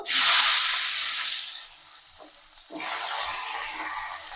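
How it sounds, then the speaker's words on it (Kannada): Chopped onion dropped into hot oil after cumin for a tomato kurma, hitting with a loud hissing sizzle that fades, then surges again as stirring resumes, close and with no talking. "ಜೀರಿಗೆ ಆದಮೇಲೆ ಕಟ್ ಮಾಡಿರೋಂತಹ ಈರುಳ್ಳಿ ಹಾಕೋಬೇಕು ಸಣ್ಣ ಸಣ್ಣದಾಗಿ"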